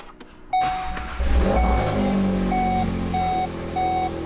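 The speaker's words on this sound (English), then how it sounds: "Give it the nice start up, cold start." A Volkswagen Golf R cold-starts with a quick crank and catch, then settles into a steady, raised idle close by. A short electronic chime beeps repeatedly over the engine.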